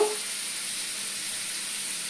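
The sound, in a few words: potatoes frying in a pan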